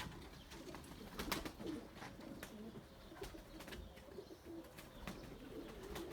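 Faint, low cooing from white tumbler pigeons murmurs on and off amid scattered clicks and knocks, with no voices.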